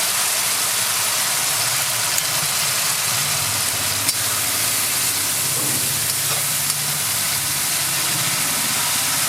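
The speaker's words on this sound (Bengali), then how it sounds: "টমেটোটা একটু ভালো করে ভেজে নেব দিয়ে দেবো জিরে গুঁড়ো" Tomato frying in a pan with cumin powder gives a loud, steady sizzle and hiss that runs unbroken throughout, close and without pause.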